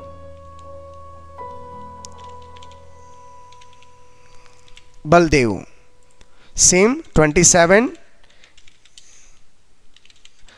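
Light clicking of computer keyboard keys runs faintly throughout, steady and quiet, while someone speaks in short bursts over it.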